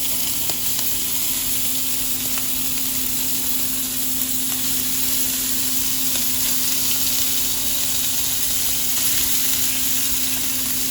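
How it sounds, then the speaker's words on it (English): Longaniza sausage sizzles in a frying pan for street tacos, a steady, loud frying hiss that runs unbroken with no talk. "I'm gonna start adding in the longaniza."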